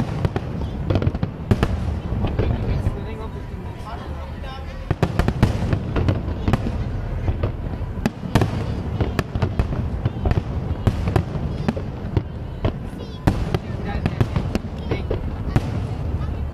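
Rapid fireworks bursts crackle and boom in irregular clusters, loud and close, in the Netherlands, with voices talking underneath throughout.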